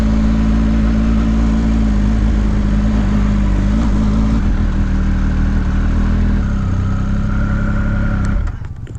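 A 2018 Triumph Speed Triple 1050 S three-cylinder motorcycle engine rumbles loudly and close up with a steady, throaty drone. The revs shift slightly partway through before the sound drops away at the end.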